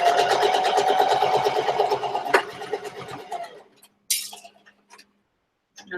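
A sewing machine stitches a seam on a fabric box pouch with a steady, rapid, close whirring rattle for about three seconds, then slows and stops. A few light clicks and handling noises follow.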